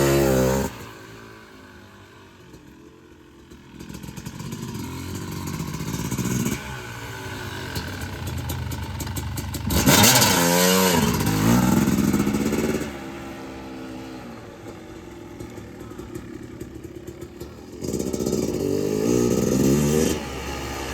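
Dirt bike engine on a test ride after brake line bleeding, revving and accelerating continuously with rising and falling pitch, loud and near throughout with a strong surge around the middle.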